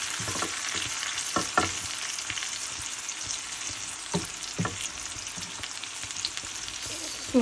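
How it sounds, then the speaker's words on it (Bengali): Onions fry slowly in a pan over low gas, giving a continuous gentle sizzle broken by occasional soft scraping taps from a spoon, close and fairly quiet. "স্লো গ্যাসে আস্তে আস্তে করে আমি এটা ভাজি করবো আরো"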